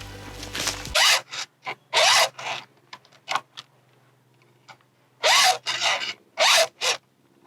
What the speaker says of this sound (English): Always sharpen your chainsaw before you put it away.